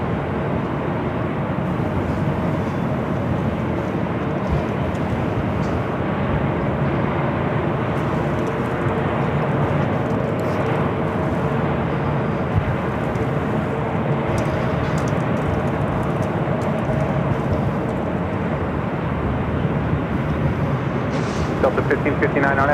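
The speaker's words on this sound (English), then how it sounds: "Emirates A380 Super. Flight 216 heading back to Dubai. Now pushing back from the gates of Tom Bradley." Steady, broad airport noise surrounds an Emirates Airbus A380 pushing back from the Tom Bradley gates at Los Angeles International Airport, a continuous distant jet rumble with a voice speaking over it.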